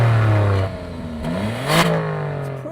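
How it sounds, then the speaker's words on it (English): The standard sports exhaust of an Alfa Romeo Stelvio Quadrifoglio (510 hp) in normal mode burbles and blips as the engine revs up and down a few times, moderately loud and close, with a short rasp midway. "You get a sports exhaust as standard, and in normal modes, it sounds like this."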